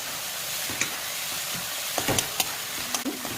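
Spices fry with pea greens in hot mustard oil and dried red chilli, giving a steady, close hiss and sizzle with a few soft stirring clicks and taps.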